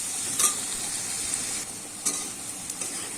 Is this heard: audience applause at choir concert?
no